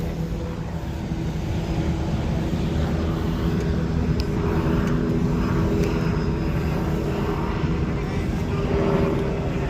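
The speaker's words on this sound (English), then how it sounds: "Oh, I think that's the police chopper right there" A steady, droning rotor and engine rumble from a black police helicopter flying overhead at an outdoor protest camp, continuous for the whole stretch, with faint background voices and street noise.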